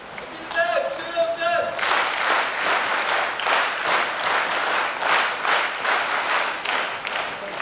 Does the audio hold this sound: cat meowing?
no